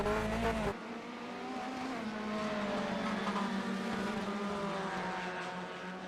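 A Ferrari race car in a sim racing game at Sebring during an online endurance race, its engine a steady high drone with a sharp change early on, then sustained, moderately loud, with no talk.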